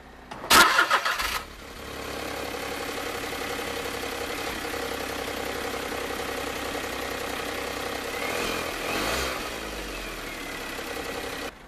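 A 2009 Smart Fortwo Passion Coupe engine cranks briefly and fires up, then settles into a steady, close idle that hums evenly, with a slight rise near the end.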